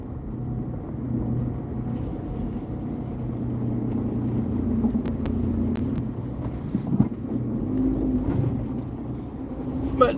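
A small car rolls through a deep mud hole on a rural track to a farm in the Philippines, its engine a steady low rumble with splashy bursts partway through, heard alone from close range.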